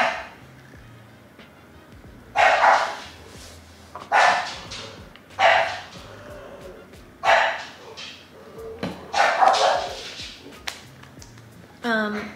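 A dog barks loudly several times at irregular intervals, with sharp single barks and short clusters over a quiet background.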